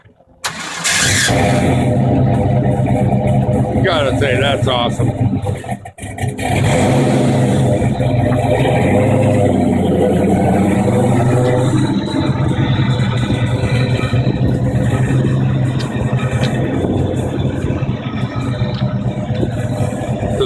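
A Nissan R32 with a mid-mounted LT1 V8 cranks, fires and settles into a loud, lumpy idle, then revs hard several times close by, with someone briefly talking over the engine.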